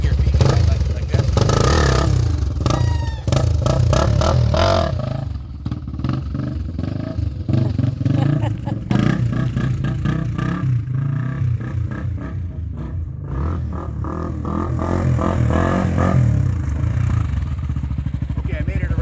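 Honda XR250 dirt bike engine revving and rumbling close by as the rider attempts a wheelie around a house, loud and continuous with throttle surges throughout, with some voice mixed in.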